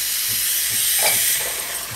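An espresso machine steam wand hisses steadily and loudly with broadband rushing noise, opening at full steam for latte milk and holding throughout with slight surging.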